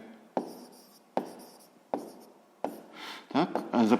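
Pen or pencil writing a sixth-grade math answer by hand on paper, four sharp scratchy strokes in steady rhythm, close and fairly quiet, with more scribbling toward the end.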